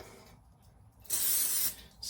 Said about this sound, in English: spray it just a little more with some Pam